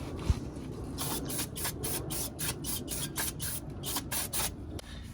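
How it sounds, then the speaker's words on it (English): Brake cleaner sprayed in a series of short hissing bursts onto a clutch pressure plate from a JDM Honda B20 engine during assembly, roughly a dozen rhythmic sprays close by over faint rubbing and workshop background, with no talk. "I'm gonna go through the brake cleaner, clean the pressure plate"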